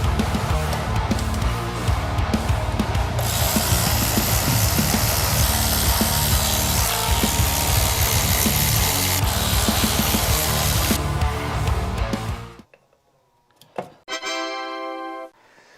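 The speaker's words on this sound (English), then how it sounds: "I'm going to go ahead and unbolt the 4 bolts for the plenum and lift this whole stupid thing up." A power tool runs loud and steady on the intake plenum bolts of a third-generation Honda Prelude engine, close up for about twelve seconds, then it cuts out and short whirring bursts follow.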